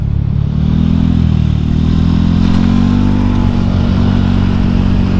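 A Honda Scoopy scooter fitted with Michelin tyres hums along at a steady speed, its engine drone and road noise loud and close throughout with no talking.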